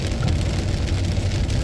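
Steady rain falls at a large family campground, a continuous dense hiss with a low rumble beneath, evenly loud throughout and with no voices.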